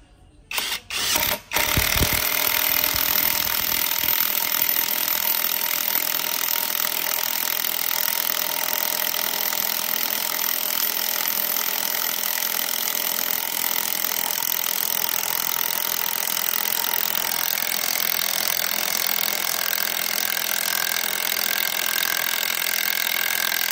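A Himoki impact wrench drives a 15 cm screw into longan wood. After a few short bursts it settles into a steady, loud, continuous buzzing whir that runs on without a break.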